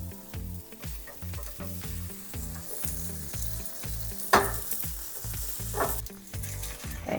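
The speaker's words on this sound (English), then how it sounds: "I'm gonna start cooking our veggie burgers." Veggie burgers fry in an oiled pan on medium-high heat, a steady loud sizzle running throughout, with rhythmic background music and no talking.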